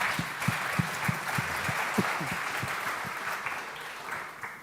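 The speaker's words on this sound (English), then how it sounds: "A round of applause for the next panel." Applause from a conference audience at a photonics economic forum, a steady moderate wash of clapping with a few distinct nearby claps punctuating it, gradually tapering toward the end.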